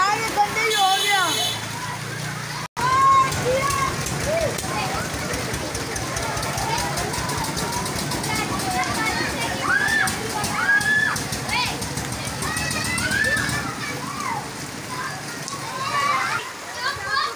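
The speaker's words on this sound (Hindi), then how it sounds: "बहुत ही तेज़ बारिश लगी हुई थी" Heavy rain and floodwater fill a street in Karachi's Lyari, a steady broadband wash of sloshing and splashing with no break, while children shout and call out close by over it.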